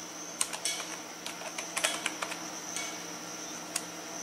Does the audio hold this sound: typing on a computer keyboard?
yes